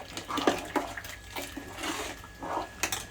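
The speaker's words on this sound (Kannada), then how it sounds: "ಗಟ್ಟಿಗೆ ಬೇಕಾದರೆ ಸ್ವಲ್ಪ ನೀರು ಹಾಕ್ಕೊಳ್ಳಿ" Water is added to a pot of togarykaayi sambar in a home kitchen, giving a steady splashing and trickling hiss throughout, with a few louder splashes and no talking.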